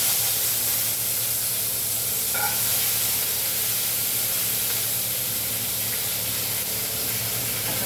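Cumin seeds go into hot oil in a kadhai after mustard seeds, on a lowered gas flame, giving a steady close sizzle and hiss that holds evenly throughout with no talking.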